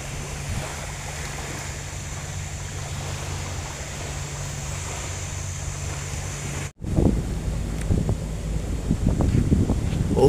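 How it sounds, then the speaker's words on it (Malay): Strong wind buffets a small fishing boat at sea, a continuous roaring rush of gusts and microphone wind noise with a low engine-like hum, briefly cutting out before louder gusting resumes. "ada sentapan angin begitu kuat sahabat angin begitu kuat"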